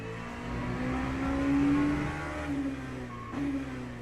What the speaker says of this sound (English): I keep forgetting how high this LMP2 revs.